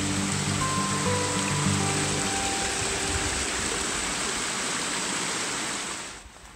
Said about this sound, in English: A little bit of water running.